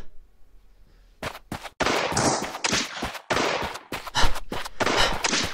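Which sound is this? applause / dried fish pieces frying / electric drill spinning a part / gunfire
gunfire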